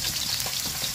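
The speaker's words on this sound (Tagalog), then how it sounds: "habang nagpiprito po tayo" Fish fries in a pan with a dense, crackling sizzle that stays loud and steady throughout, no talking over it.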